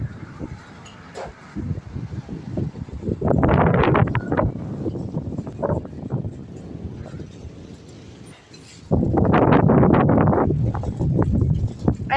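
Strong wind gusts ahead of a cyclone buffet the microphone in loud, roaring surges, with two especially heavy blasts and a lull between them.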